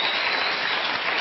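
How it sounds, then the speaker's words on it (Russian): Studio audience applause on a talk show, a brief burst of dense, even clapping, loud and close, with no voices over it. "Спасибо за аплодисменты."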